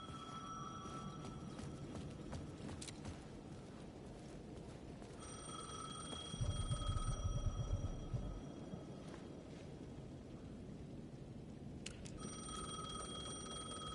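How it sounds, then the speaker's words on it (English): A payphone ringing in the video game Alan Wake 2, its electronic bell sounding in repeated bursts over a steady dark ambient bed, with a low rumbling thud partway through and no voices. "The payphone was ringing again."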